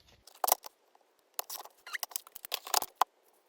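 Scissors snip through paper while trimming a craft piece, a series of short crisp cuts in quick bursts with brief pauses between them.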